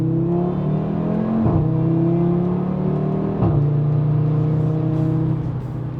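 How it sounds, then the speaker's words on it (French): An Audi RS3 8V five-cylinder engine revs loudly and close, its sustained growl climbing in pitch across two gearshifts, each marked by a sharp dip and a drop to a lower drone. "que des décibels et que du son de 5 cylindres dans son plus simple appareil"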